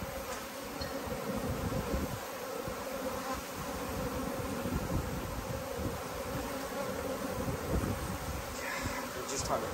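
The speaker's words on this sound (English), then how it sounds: "That's a decent swarm." A swarm of honey bees makes a dense, continuous buzzing hum that holds steady for the whole stretch, moderately quiet and with no clear voices over it.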